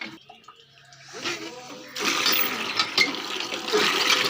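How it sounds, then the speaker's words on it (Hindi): Water gushes from a tap at an old home beside a construction site, starting faint and thin with small clatters, then swelling after a couple of seconds into a loud, steady splashing rush close by. "पानी इसमें काफ़ी आता है।"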